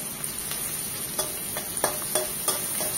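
Chopped onion frying in a pan, a continuous close sizzle broken by several sharp scrapes of a spatula stirring at an irregular pace, no voices.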